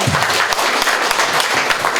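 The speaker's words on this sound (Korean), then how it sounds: "다시 한번 뜨겁게 격려의 박수를 부탁드리겠습니다" Brief burst of audience applause at a lecture event honoring a council member, loud and dense, with distinct claps pulsing through the crowd noise.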